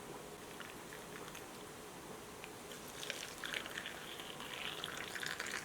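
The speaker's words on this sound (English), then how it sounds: "I'm going to get some hot water in them" Hot water is poured into jars packed with ham for pressure canning at home. It makes a soft, steady splashing trickle that grows louder and busier in the second half, with no talking.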